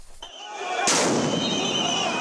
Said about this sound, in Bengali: অবস্থানরত শিক্ষকদের ছত্রভঙ্গ করতে এভাবেই নিক্ষেপ করা হয় সাউন্ড গ্রেনেড